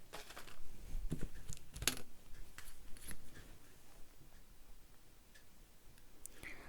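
Material is cut to width, giving a series of crisp snipping and clicking sounds, loudest early on and thinning out, faint and close in a quiet room.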